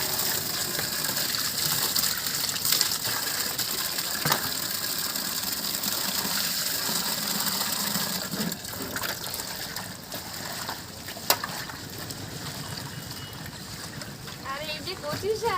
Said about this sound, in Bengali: আর একবার ভালো করে কলের জল দিয়ে ধুয়ে নেবো।